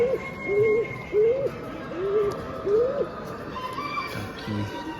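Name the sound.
pigeons cooing at a pigeon show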